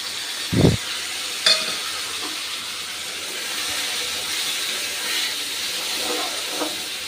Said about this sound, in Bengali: মশলাটাকে খুব ভালো করে কষে নেব